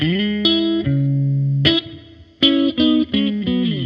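PRS Swamp Ash Special electric guitar on the neck and middle pickups through a Tube Screamer: a few ringing, lightly driven chords and notes, sustained and then cut short in a loose rhythm, close and loud.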